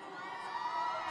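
Crowd cheering at the Farm Bowl football event, a dense sustained roar of many voices with whoops, steady and loud throughout a brief moment.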